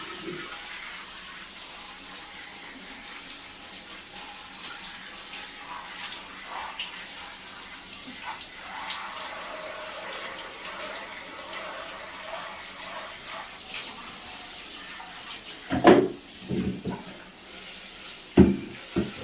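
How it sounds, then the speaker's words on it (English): A shower head on its strongest setting sprays water steadily to wash out a Dirt Devil Dynamite vacuum cleaner bin, a continuous hiss with a few louder splashing bursts near the end. "this is probably the strongest setting on this particular shower head"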